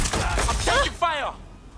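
Gunfire in the video game Watch Dogs: Legion, a burst of loud, close sharp cracks and shots under a shouting voice, brief and dense.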